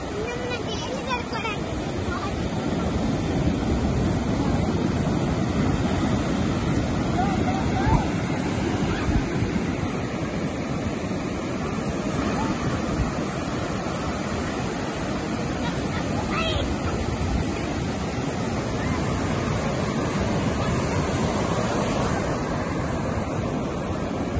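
Ocean surf washes onto a beach at Vizag, a continuous roar mixed with wind buffeting the microphone and distant chatter of people nearby.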